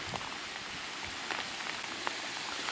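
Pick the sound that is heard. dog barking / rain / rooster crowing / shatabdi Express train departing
rain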